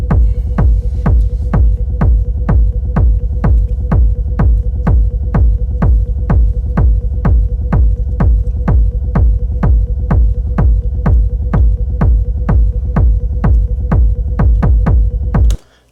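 A techno track plays through an 8-bar phrase: a heavy, evenly spaced kick drum pounds about twice a second over a low droning hum, loud and unchanging until it cuts off abruptly at the end.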